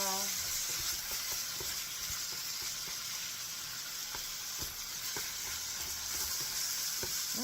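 Beef sizzles steadily while being sautéed in osake, shoyu and mirin for Japanese niku udon, with scattered scrapes of a spatula stirring the pan, continuous and fairly close.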